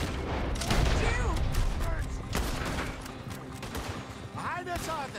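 Gunfire in the Red Dead Redemption 2 video game during a street shootout, with a rapid volley of shots and ricocheting reports over game music and voices, dense and fairly loud.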